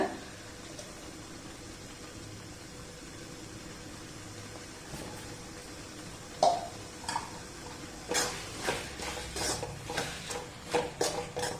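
A spoon stirring a thick sweet suzhiyam filling flavoured with cardamom and dry ginger in a pan: quiet at first, then a string of soft scrapes and clinks against the metal in an uneven rhythm.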